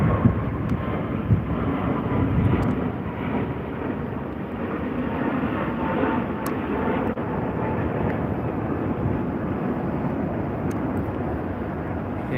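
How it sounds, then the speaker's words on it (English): A Jetstar Airbus A321neo, likely the LR variant, departs runway 34 right with a steady, fairly loud jet roar that holds throughout, without speech. "So here's a Jetstar A321neo."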